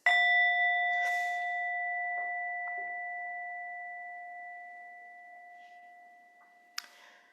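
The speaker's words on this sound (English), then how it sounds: "so here comes the bell" A meditation bell rings out at the close of a mindfulness practice, with one clear strike whose pure tone slowly fades over several seconds before a second, softer strike near the end, in an otherwise silent room.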